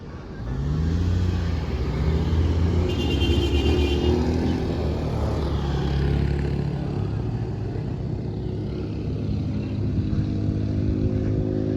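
A vehicle labours up the steep Pasir Bilik hill near Buniwangi, Palabuhanratu, its engine droning and revving under load for the whole stretch, while voices talk faintly in the background.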